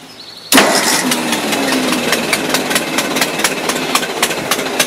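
A 1952 Ford 8N tractor engine cranks and catches abruptly, then runs on loud and close with a steady, slightly uneven rumble and repeated ticking pulses, with no talk over it.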